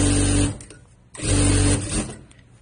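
A sewing machine stitches a rolled hem on a sweet-style shirt, running in two loud, steady bursts separated by a short pause, with no talk.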